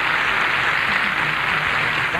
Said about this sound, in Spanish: Este aplauso de agradecimiento a Chile